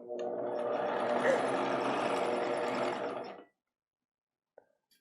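A sewing machine runs steadily for about three and a half seconds, stitching plastic bag fabric with all-purpose Gutermann thread at a size 3 stitch length, then stops, followed by a faint click.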